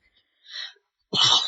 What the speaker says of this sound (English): Is that the first time you ever sneezed on this podcast?